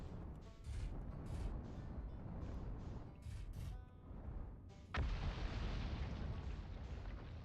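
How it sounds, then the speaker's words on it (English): An explosion in the space exploration video game Outer Wilds: a low roaring rumble with bursts, then a sharp loud blast that leaves a sustained broadband roar. "And that was an explosion."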